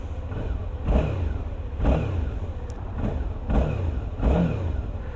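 A 2017 Suzuki V-Strom XT 650 motorcycle engine running close by, steady and loud, with a throaty pulse that swells into a rev roughly every second.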